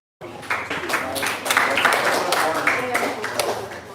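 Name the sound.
audience clapping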